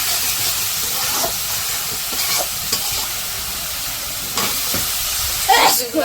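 Vegetables sautéed with ginger-garlic paste and spices in a pan, a steady loud sizzle with repeated scraping stirs and brief bursts of hiss toward the end.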